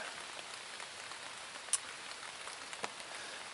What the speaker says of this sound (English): it was starting to pour rain on me